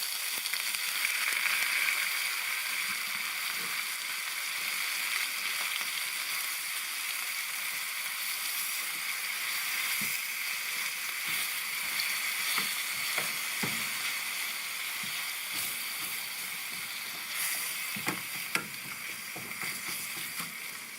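Leftover turkey, previously frozen, sizzles and fries in a pan with a continuous crackling hiss, broken by occasional scrapes and clicks of stirring.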